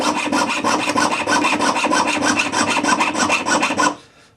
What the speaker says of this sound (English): You can use the saw for this.